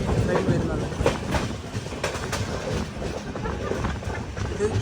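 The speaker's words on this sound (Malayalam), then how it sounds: "കണ്ണൂർ റെയിൽവേ സ്റ്റേഷനിലേക്ക് നമ്മുടെ ട്രെയിൻ എത്തിക്കൊണ്ടിരിക്കുകയാണ്." The Mangala Lakshadweep Express rumbles into Kannur railway station on a sleeper-class journey, a steady close clatter of wheels and carriages throughout, with voices faintly mixed in.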